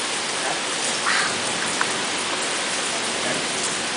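Rain pours down heavily during a flash flood, a dense, steady hiss of drops striking surfaces close by, unbroken throughout without voices.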